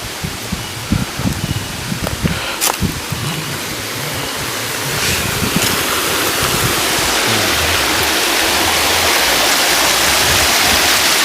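Steady rushing roar of a waterfall in the Subang backcountry, broadband and continuous, building louder and denser after the first few seconds with a few brief knocks near the start.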